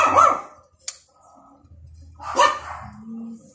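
A dog barks sharply twice, close by, with a quiet pause between the two barks and low rumbling in the background.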